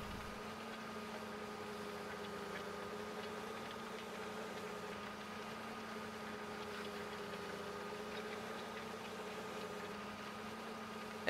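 A tractor engine in Farming Simulator 15 idles with a low, steady, even drone, quiet and unchanging for the whole stretch, with nothing else heard.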